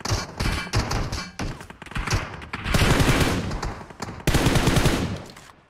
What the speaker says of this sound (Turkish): Ya niye sıkıyorsunuz?